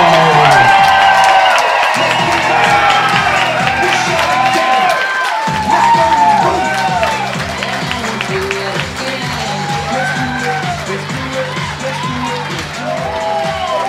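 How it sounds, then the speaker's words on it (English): Wedding reception guests cheer, whoop and clap as the newly married couple and bridal party enter, loud and continuous over a thumping dance track, with excited shouts rising above the crowd. "Let's give a nice round of applause for the bridal party and the bride and groom"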